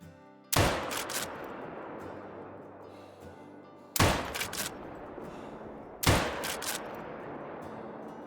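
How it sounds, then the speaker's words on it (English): Three loud, sharp rifle shots at a kangaroo in the hunting game Call of the Wild, fired from about 300 yards. Each crack rings out alone with a long fading tail, and the shots come several seconds apart. "we're gonna go for our 300-yard shot"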